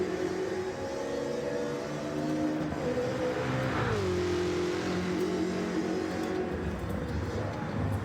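Roadster Shop Road Rage Camaro race car at full throttle on the Nürburgring, a loud close engine roar climbing through the revs with a brief dip and rising pitch as it pulls hard, steady and unbroken.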